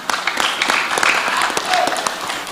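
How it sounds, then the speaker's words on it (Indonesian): Audience applause rises at a 2024 public debate between Manado mayoral and deputy mayoral candidates, a dense, steady crackle of many hands clapping that fills the hall for a couple of seconds. "Kita beri aplaus untuk semua pasangan calon."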